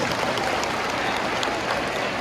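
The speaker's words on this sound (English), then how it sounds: "Can we give ourselves a round of applause?" A crowd claps steadily, a dense wash of applause that holds at an even level throughout without cheering or voices.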